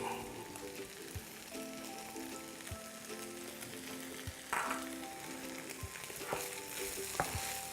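Fried rice with onions and green onion being stirred in a pan, a steady close sizzle with soft scraping strokes of a spatula running throughout, no voices.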